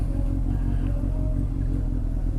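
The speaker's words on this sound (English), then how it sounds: "Always get some awkward traffic here" Steady low engine rumble of traffic on a one-way street in Seoul, heard from a motorbike in cool autumn weather, continuous and fairly close with no distinct passes standing out.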